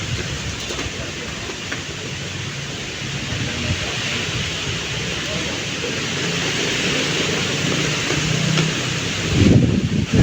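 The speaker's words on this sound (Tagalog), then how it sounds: "Grabe. Ang lakas ng hangin." Strong wind roars steadily through large trees in bad weather, a dense, continuous rush of leaf rustling that builds slightly toward the end, with a brief louder gust or knock near the close.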